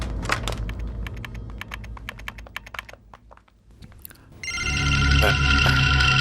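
A telephone breaks into loud, continuous electronic ringing partway through, after a stretch of sharp clicking and tapping sounds.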